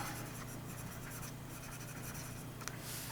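A broad nib fountain pen glides across paper in a close, faint, continuous scratching under a soft steady background hiss.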